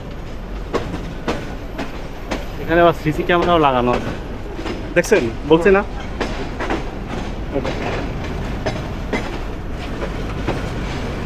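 Balaka commuter train pulling out of Bhawal Gazipur railway station in Bangladesh, with steady clickety-clack of wheels, rising and falling squeals and a continuous rumble throughout, while someone talks over it.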